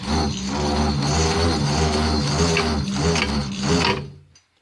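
A hand-cranked AC generator is turned steadily and grinds loudly with a rough ratcheting, gear-like rumble for about four seconds, then stops abruptly into silence.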